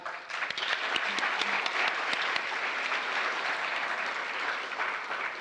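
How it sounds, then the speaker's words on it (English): Audience applause for the Lions Club at a Dairy Festival scholarship pageant; a sustained round of clapping from a crowd swells up after a brief start and stays steady, slightly distant. "let's give them one more round of applause"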